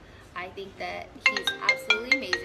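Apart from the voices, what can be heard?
phone ringtone going off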